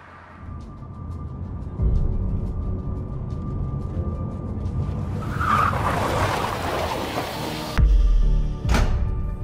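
A car skids in an accident as an advertisement sound effect: an engine rumble builds, tires screech loudly in the middle, then sharp impact bursts hit near the end, with no voices.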